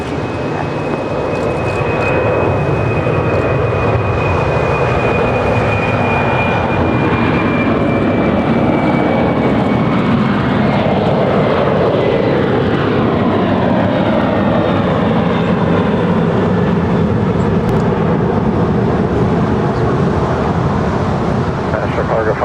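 Jet airliners at Los Angeles International Airport roll and climb past in a steady, loud, broadband roar that fills the whole stretch, with a thin whine sliding slowly downward through it.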